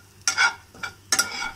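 Neem flowers roast in a pan as a spoon scrapes and stirs them, making three short scraping strokes with a light sizzle in between, close and clear with no talking.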